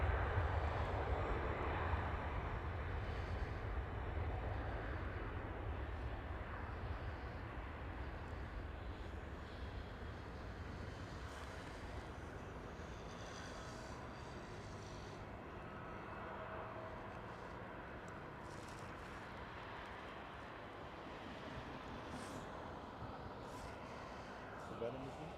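A World2Fly Airbus A350 airliner passes at Schiphol Airport in Amsterdam, a steady broad engine roar that is loudest at the start and slowly eases while staying present throughout, with occasional voices talking nearby.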